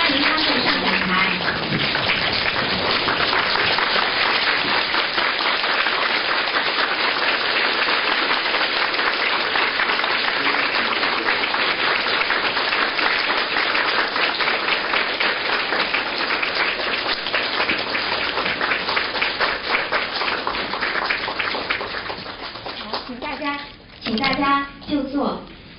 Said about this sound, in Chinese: 让我们以热烈的掌声全体起立，我们以热烈的掌声欢迎堪布上讲台